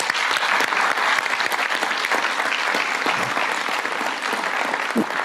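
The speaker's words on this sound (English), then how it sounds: "I think he deserves a round of applause." Steady applause from the audience at a board of directors meeting, dense continuous clapping holding at an even level throughout, with no talk over it.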